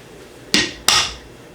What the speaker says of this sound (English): You can crack them right in there.